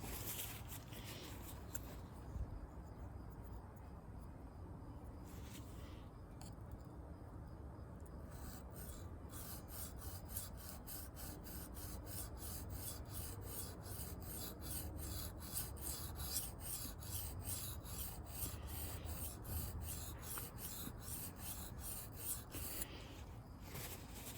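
A Kershaw Trace knife blade is sharpened by hand, with long rubbing, rasping strokes against the stone that settle into a rapid, regular back-and-forth scraping, close and fairly quiet, with no talk.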